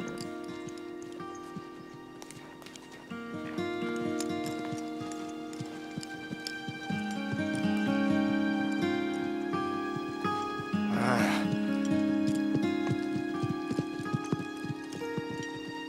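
Horses walk with steady clip-clopping hooves, moderately close, over a bed of sustained music.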